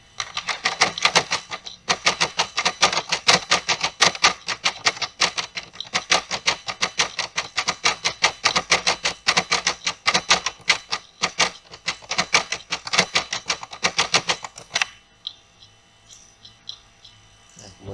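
Rapid clicking keystrokes on a computer keyboard continue in dense bursts for about fifteen seconds, close and fairly loud, then thin out to a few lighter taps under a faint hum.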